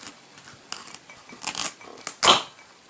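Knife cutting into the side of a small garden gourd, giving a series of short scraping and crunching strokes, close up, with the last cut the loudest, and no one speaking.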